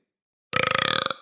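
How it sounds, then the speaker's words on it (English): One person lets out a single loud, close burp lasting about half a second. It breaks abruptly out of silence with a rough, pulsing rattle. "Sorry, I burped too."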